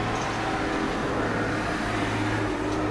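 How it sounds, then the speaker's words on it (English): A car passes close by on a street outside, its steady engine and tyre rumble holding for a few seconds, loud and continuous with no talking over it. "car just going past"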